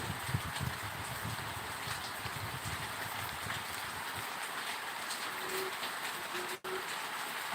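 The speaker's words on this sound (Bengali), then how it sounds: "এখানে প্রচুর বৃষ্টি হচ্ছে" Heavy rain pours in a dense, constant patter and hiss, with irregular drips tapping more heavily at first.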